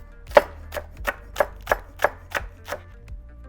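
A knife thinly slices spring onions on a cutting board for an okonomiyaki batter, eight crisp, evenly spaced chops in a steady rhythm, close and clear with no talk.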